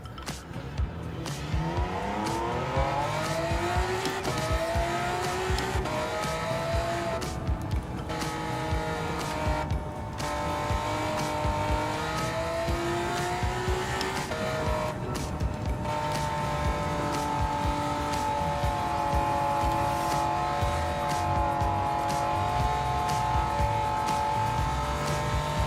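Honda NSX race car lapping in Gran Turismo 7, a continuous high engine whine rising and falling through gear changes and corners, with brief dips where it lifts off, loud and close throughout.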